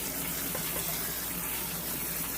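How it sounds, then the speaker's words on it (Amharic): Cold tap water runs steadily over beans in a strainer, a continuous close rushing wash with no pauses and no voices. "በደንብ አድርገን እናለቀልቀዋለን።"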